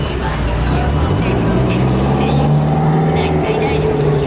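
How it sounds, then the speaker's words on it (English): A car drives past outdoors, a loud steady engine roar with low rumbling tones holding through the whole stretch and swelling slightly midway, with no voices over it. "I literally don't know what car that was."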